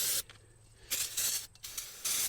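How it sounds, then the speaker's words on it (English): An aerosol can sprays cleaner onto a transmission-fluid-soaked belt and pulley of a Ford F350. Three short, close, sharp hissing bursts are separated by brief pauses. "every once in a while I get a can that doesn't want to spray"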